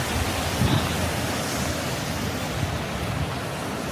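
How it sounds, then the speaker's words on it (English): Steady, dense hiss of rain falling on a Manhattan street, even and continuous with a low rumble underneath, no voices. "We're rainy in Manhattan here."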